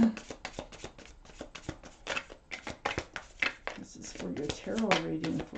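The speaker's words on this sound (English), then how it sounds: "I'm going to put it back in the deck until I'm ready to pull them out, okay?" Tarot cards are shuffled by hand in quick riffling bursts and soft slaps close to the listener, while a voice talks over much of it.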